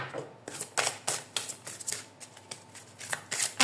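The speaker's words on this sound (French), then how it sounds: "je vais vous tirer, hop, la petite carte" Oracle cards being shuffled and drawn during a tarot-style reading, a run of quick papery riffles and flicks in an irregular rhythm, close and clear with no talking.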